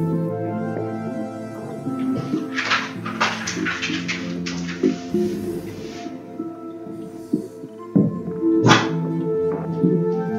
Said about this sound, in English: Dear buddy, what you barking at?